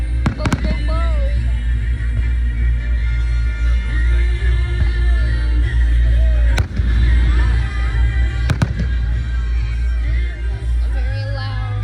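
Fireworks bursting at an event, with repeated loud booms and crackling bangs throughout, sharp blasts standing out over a steady crowd rumble as people talk nearby.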